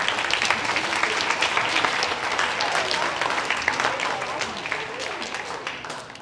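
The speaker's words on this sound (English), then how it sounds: "So give yourself a round of applause" Sustained applause from a crowd, steady dense clapping that fills the whole stretch without a break.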